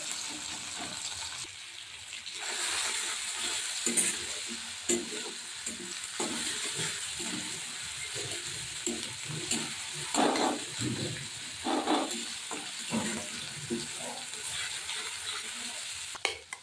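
Tomatoes fry with a little salt in a pan for an egg chop curry, a steady broad sizzle running throughout while a spoon scrapes and stirs in irregular bursts, close and fairly loud, with no voices.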